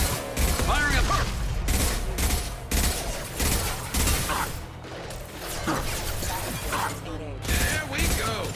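Gunfire in the video game Mass Effect 2: repeated bursts of shots and impacts in uneven volleys, loud and close, mixed with crashes and whooshing effects, with a voice talking over the action.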